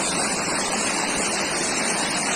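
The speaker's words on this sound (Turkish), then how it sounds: "Saatlerce dere böyle akıyor ya." A stream in Rize whose water has turned red flows in a loud, constant rushing wash, close by and steady throughout with no voices.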